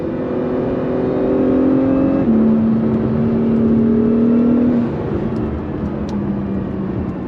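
A 2022 Acura NSX Type S engine accelerating hard on the road, a loud, steady rising drone that climbs through gear changes and then settles, heard close from inside the car without talk.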